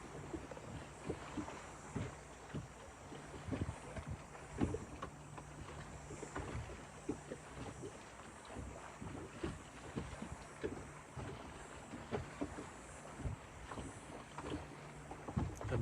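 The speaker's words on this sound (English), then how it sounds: "as you listen to the water and feel the breeze" Water lapping softly outdoors on a calm summer day, with a light breeze brushing the microphone; faint, irregular splashes and knocks recur throughout under a steady low wind hiss, with no talking.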